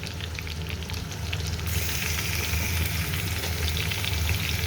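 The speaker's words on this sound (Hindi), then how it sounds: "अब ये हम इसमें डाल के तो इसकी भुनाई करेंगे। इसकी जो भुनाई है वो मस्ट है।" Onions and beef paya fry in a pot, a dense continuous sizzle that swells louder after the first couple of seconds, with faint stirring and no talking.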